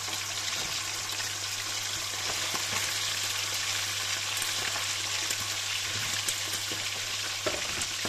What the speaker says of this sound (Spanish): Bueno, pues vamos a freír. Echamos la carne.